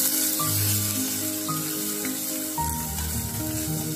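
Sardines frying in a pan with onions for bihon, a steady close hiss and sizzle running alone throughout without talk.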